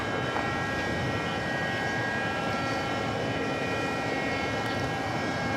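A departing airliner at JFK airport roars in a steady, broad engine rumble and whine that stays loud and constant the whole time.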